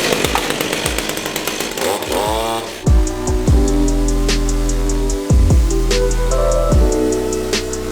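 A power tool whines and revs as it cuts through wooden roof binding, bursts of high-pitched motor noise rising and dropping repeatedly, close and loud.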